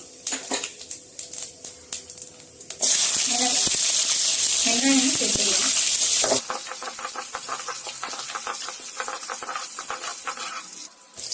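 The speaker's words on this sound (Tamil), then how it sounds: "இன்னொரு பக்கம் தாளிச்சிடலாம் ஸோ கடுகு உளுந்து போட்டுக்கலாம் எண்ணெய் சேர்த்துக்கலாம் சீரகம் சேர்த்துக்கலாம்" Mustard seeds, urad dal and cumin tempered in hot oil for a sambar burst into a loud, dense sizzling hiss after a few quiet clinks, then settle into a steady crackling fry, close up.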